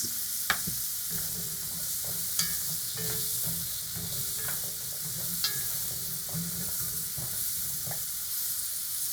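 Carrots and salt stirred into a pot of browning lamb for stew, giving a continuous close sizzle with occasional light utensil clicks and scrapes against the pot; no voices.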